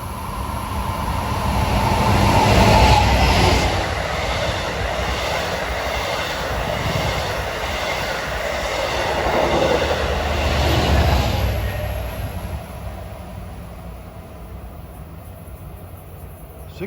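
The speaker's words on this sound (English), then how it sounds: "chasing that train on track number 1 is a train for Hicksville" Diesel passenger trains pass on the track at Forest Hills during rush hour, a broad rumble that swells twice and then recedes, with rail noise and a steady high whine over it.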